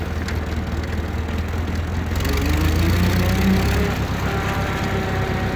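A 1947 Ford 2N farm tractor engine idles nearby with a low, steady rumble and a slight rise in level midway, no talk over it.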